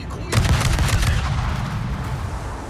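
Heavy naval gunfire from a warship, the British cruiser HMS Hawkins in World of Warships, opens with one loud booming salvo followed by a long rumbling roll and a hissy tail. The blast is close and dominant, with no clear speech over it.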